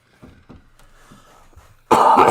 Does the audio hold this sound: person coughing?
yes